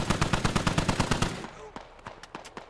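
Sustained automatic gunfire from the Squad video game, a fast even rattle of loud shots that cuts off halfway, leaving a few sparser, distant cracks.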